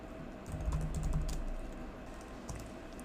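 Keys clatter on a computer keyboard as terminal commands are typed, a short burst of close, quick keystrokes that thins out to a few scattered taps.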